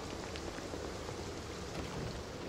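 Steady rain falls in a game world, a dense even hiss of drops spattering on surfaces with no pauses or voices.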